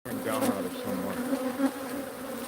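Bees buzz steadily near a wall, a low continuous drone that swells slightly now and then, fairly faint and close with no other sounds.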